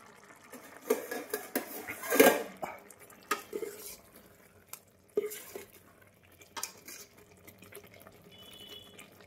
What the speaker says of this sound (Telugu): కొద్దిగా కలబెడదాం.